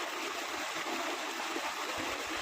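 Well water pours into a farm field, a steady rushing, gurgling flow like a small stream that carries on evenly throughout at close range, with no voices.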